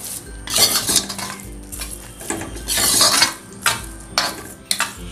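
Sugar is stirred into cooking bottle gourd halwa in a pot, with close, bursty scraping and clinking of a metal spoon against the pan in uneven strokes and a soft sizzle underneath.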